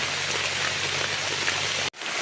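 Steady rain falls over a forest campsite during the rainy season, a dense, even hiss of drops on leaves and surfaces that holds close and loud before cutting out abruptly near the end.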